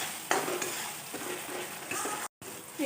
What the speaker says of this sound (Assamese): এইখিনি অকণমান সময় ভাজি লওঁ।